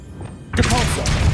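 Accio summoning spell cast in the video game Hogwarts Legacy: a quiet lead-in gives way to a sudden whooshing burst with a soft thud and a shimmering magical tail.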